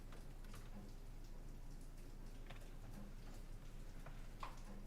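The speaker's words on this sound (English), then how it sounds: "It's raining outside." Steady rain falling outside, a soft continuous wash with scattered distinct drips and taps on a surface, heard from indoors at low level.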